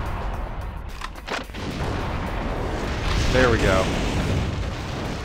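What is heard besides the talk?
grenade launcher fire and explosions in video game Metal Wolf Chaos XD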